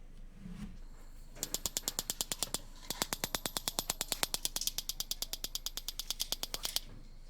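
The battery igniter on a Weber Spirit gas grill clicks rapidly and evenly, with a couple of brief bursts followed by a long run of sharp, close clicks, and no talking.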